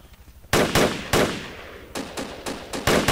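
Suppressive rifle fire in Project Reality, a loud close sequence of about eight sharp shots in irregular bursts, each ringing briefly after a quiet start.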